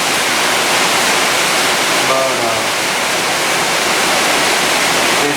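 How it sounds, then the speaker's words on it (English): Shower water running steadily, a loud broadband hiss of spray that continues unbroken, with a faint brief voice sound partway through. "in the shower right now"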